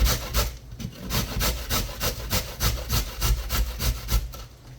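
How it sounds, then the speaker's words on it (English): Carrots for a lasagne sauce are grated by hand in quick, regular back-and-forth rasping strokes, close and steady, about three strokes a second. "So the next is to grate my carrots."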